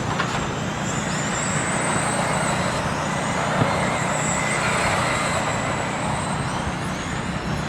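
Race car engines droning steadily on a pace lap at Toledo, a continuous broad roar at a moderate distance with no clear voices.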